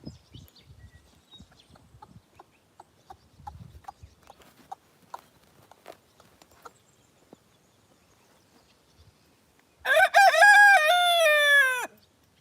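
A rooster crows once, loud and close, in a single long call near the end, after quiet scattered clucks and hoof-like taps.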